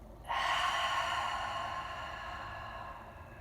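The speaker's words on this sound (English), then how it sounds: "One more breath in. And one more breath out." A slow, deep breath drawn in and let out during a children's yoga warm-up, heard as a close, steady airy rush that swells suddenly and then eases off, with no talking.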